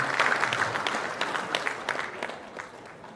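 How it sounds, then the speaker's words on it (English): An audience at a national journalism awards ceremony in the Gambia claps in a warm, sustained round of applause that gradually fades, with no talk over it. "a round of applause for the President of the Gambia Press Union."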